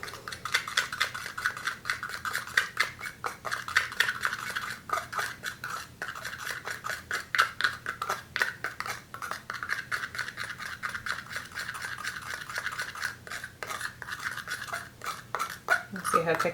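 Underglaze mixture being stirred in a small container for fused glass stencil work, giving a steady scraping, rubbing rhythm of utensil against the vessel with clinks throughout, close and fairly quiet.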